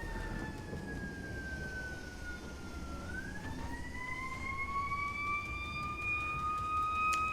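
Wailing emergency siren, ambulance or fire truck, sweeping slowly up and down in pitch somewhere in the distance behind steady background noise, continuing throughout.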